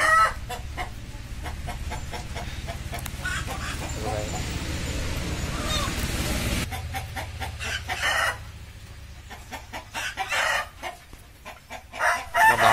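Chickens and roosters at a poultry seller in Tadgaon: loud repeated crowing and busy clucking close by, with people talking among the birds.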